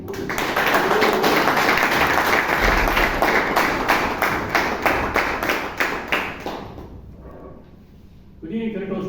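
Audience at a Toastmasters club meeting in Bangalore applauds, a dense steady round of clapping for several seconds that thins out and fades, followed by a speaker beginning to talk.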